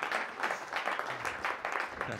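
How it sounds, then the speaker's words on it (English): An audience applauds in a hall at a live iPad music-making event, a dense, steady patter of many hands clapping throughout. "Let's give another round of applause."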